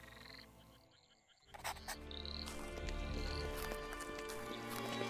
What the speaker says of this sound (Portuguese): Ali estão os sapos.